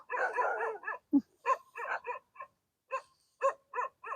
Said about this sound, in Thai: คุณหมาเอ๋ยเธอจะเห่าอะไรนักหนานึงนี้นี่